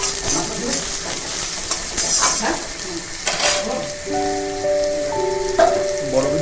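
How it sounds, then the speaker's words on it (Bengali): Chopped onion frying with jute leaves in oil, a dense crackling sizzle with occasional stirring scrapes, plus a faint steady tone entering midway, no voices. "পেঁয়াজ দেওয়ার পরে আর একটু খানিকক্ষণ ভেজে নেব"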